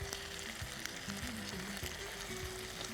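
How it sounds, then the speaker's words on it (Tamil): Green chillies frying in a hot pan, giving a dense, continuous sizzle with occasional stirring clicks, close and steady throughout, with no talking. "இப்போது பச்சை மிளகாயை உடைச்சி போட்டுக்கலாம்."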